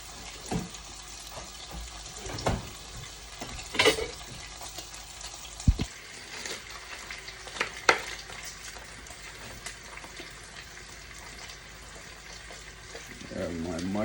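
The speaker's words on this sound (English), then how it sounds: "I'm gonna saute some mushrooms, onion, and tomato." Mushrooms, onion and tomato sautéing in a pan, with a steady broad sizzle throughout and occasional clatters and knocks of stirring, close by and without talk.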